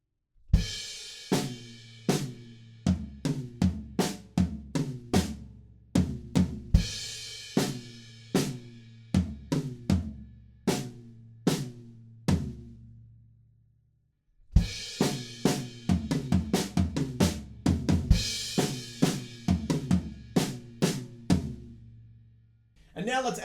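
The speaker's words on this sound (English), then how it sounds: "I can definitely hear this melodic thing going on in the toms" Drum kit toms playing a melodic pattern from the bridge of a song, with sharp, close, loud hits in a steady syncopated rhythm, a brief pause midway, then the pattern resumes.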